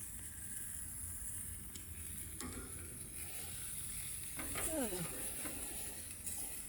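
Ring bologna frying in a pan gives a faint, steady sizzle and hiss throughout, with a few soft scrapes as it is turned.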